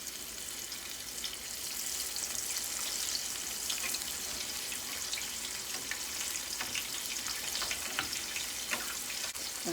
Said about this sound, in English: Gently place it in the oil.